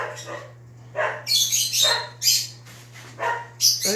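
Several indoor dogs bark in sharp, repeated bursts, some high and yippy, spaced irregularly over a constant low electrical hum, close and loud.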